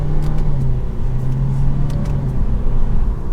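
A compact sedan's engine, driven through a CVT with paddle shifters, drones and revs at a steady, loud pitch with road rumble, close and continuous with no talk.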